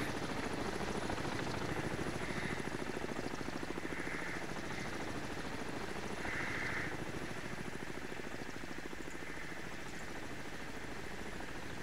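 A helicopter in the submarine video game Cold Waters, a loud continuous rotor thrum with a fast pulsing beat that holds steady and close, with no voices over it.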